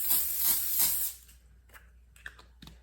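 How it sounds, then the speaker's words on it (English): Cooking spray hisses from an aerosol can onto cookie sheets, one loud continuous spray for about a second, followed by a few light clicks and taps. "I'm going to use cooking spray this time."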